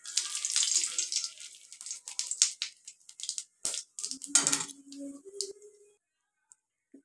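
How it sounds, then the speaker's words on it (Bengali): Cumin seeds and a bay leaf hit hot oil for an onion-mutton dish, giving a crackling, spitting hiss that is loudest early and then thins into scattered pops before going quiet. "দেখো, জিরে ফোড়ন দিচ্ছি, তারপর তেজপাতা দিলাম।"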